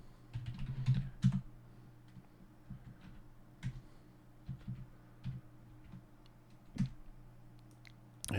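Command-line typing on a computer keyboard, with quiet, irregular key clicks spread across the span and a few firmer taps standing out, no voices.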